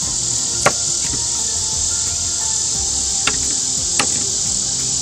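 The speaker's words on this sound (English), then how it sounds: "Now, we simply are going to cut the diode out." A blown diode is cut out of a solar panel junction box, giving a few sharp, isolated snipping clicks over a constant high-pitched hiss.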